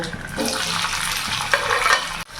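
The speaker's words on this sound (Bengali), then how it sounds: "পনিরগুলো ভেজে নেব।" Pieces of paneer fry in a pan with turmeric and salt: a short burst of dense sizzling with the scrape of a spoon stirring, close and fairly loud.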